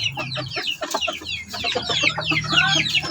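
Shamo heritage breed chickens clucking in a coop, a busy run of close, overlapping clucks and squawks from several birds with no talking.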